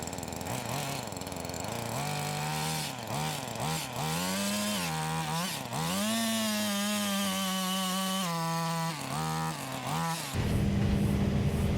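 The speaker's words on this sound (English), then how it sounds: "So we're gonna drill one hole right here, go over just under 6 feet, and drill another hole there" A loud, steady power auger drone drilling post holes, with rising and falling pitch as the engine bogs and revs, then a rougher whine near the end, with no talking.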